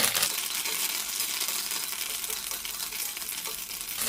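Dried red chilies and curry leaves frying in oil on low heat, a continuous bright crackling sizzle, close and even, with no voices.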